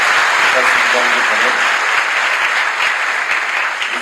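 Dense, continuous clapping from a large audience at a Madhya Pradesh government event attended by the Chief Minister, loud and sustained, with a voice briefly heard over it.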